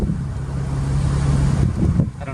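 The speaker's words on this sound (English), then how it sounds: "We'll come down to the bottom of the hill, and as usual, let it go, let it shift through the gears, see how it shifts." A 1999 Ford Mustang coasts downhill as its automatic transmission shifts through the gears, a low, steady engine and road rumble mixed with wind noise from inside the car, fairly loud and close.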